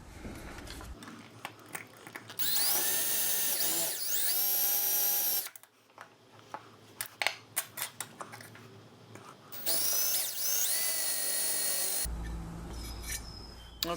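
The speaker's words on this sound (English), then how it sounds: "We've got to basically drill those rivets out." A power drill drills out the rivets holding an MG MGA rear tail light, in two sustained loud whining bursts separated by scraping and clicking handling noises.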